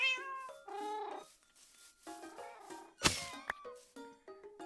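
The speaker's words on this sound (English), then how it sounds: "Ah, this stupid cat." Minecraft cats meow repeatedly in short, high, tonal cries, several overlapping and fairly close, with a sharp clang-like hit in the middle and no talking.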